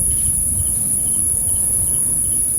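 Crickets chirp in a steady, dense chorus at a cemetery at night, a continuous high buzzing drone over low rumble, with no voices heard.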